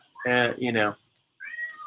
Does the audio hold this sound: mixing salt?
no